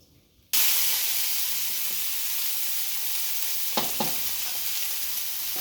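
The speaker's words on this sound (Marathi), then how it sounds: "इथे कांदा टाकल्यानंतर आपण याला चांगला हलवून घेणार आहोत" Onions drop into hot oil for pav bhaji and burst into a loud, steady sizzle, with a few scraping stirs of a spoon against the pan partway through.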